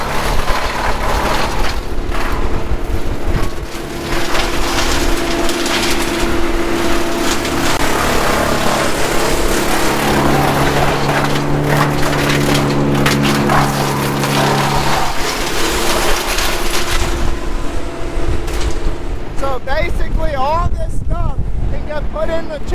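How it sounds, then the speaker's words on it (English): An outdoor wood chipper runs throughout with a loud, rough mechanical roar and grinding, mixed with wind buffeting the microphone, while a voice talks over it near the end. "This is what a wood chipper looks like."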